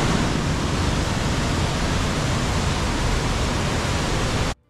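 Zapata Falls, a waterfall of about 30 feet plunging from high above, roars as a loud, steady, dense rush close by, then cuts off abruptly just before the end.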